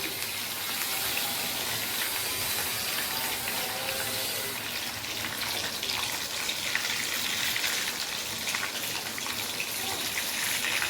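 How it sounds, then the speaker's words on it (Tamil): Chicken pieces for dragon chicken sizzle steadily as they deep-fry in hot oil, turning crisp. The bright, dense hiss holds for the whole stretch with no talk. "பொரிக்கும் போதே கிறிஸ்பியாக தெரியுது"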